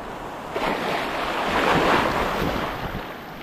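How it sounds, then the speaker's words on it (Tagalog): Ocean surf breaking near a rocky shore fishing spot, a steady broadband wash of waves that swells and holds around the middle, with wind buffeting the microphone and no voices. "lagabog yung alon sa likod natin"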